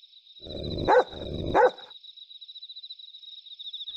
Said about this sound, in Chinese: 见到只黑色狗啦。